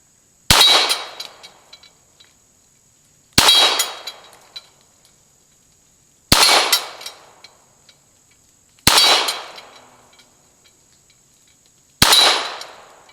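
Five sharp shots from a Ruger Mark IV .22 target pistol at an outdoor range, each a loud crack with a ringing clang from a steel target 25 yards off, spaced a few seconds apart with quiet between them.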